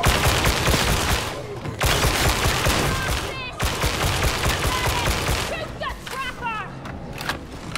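Enemy gunfire in Warhammer 40K: Darktide, loud dense bursts of automatic shots that come in waves and stop in brief gaps, with game effects and a player's voice talking over the barrage.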